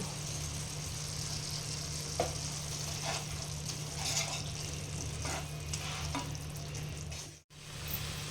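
Spice masala sautéing in a pan for a potato and pointed gourd curry, giving a soft, continuous sizzle with occasional faint stirring scrapes and a brief dropout near the end.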